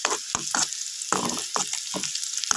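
Onions frying in hot oil for a tempering in a home kitchen, with a steady sizzle broken by several sharp bursts of louder crackle and spatter, close and without talk.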